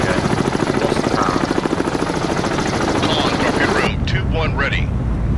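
A helicopter in the submarine video game Cold Waters gives a loud continuous rotor chop that fills the scene, thinning near the end as a voice briefly speaks.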